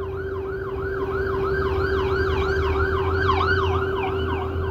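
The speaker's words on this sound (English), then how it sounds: "It's an ambulance, anyway." An ambulance siren wails close and loud in a steady rising and falling cycle, repeating many times over rumbling road traffic with no talk.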